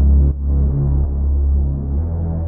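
A heavy drum beat made in Ableton, pushed through a drum buss effect with saturator-like distortion, thumps loud and dense with strong low end in a steady repeating groove.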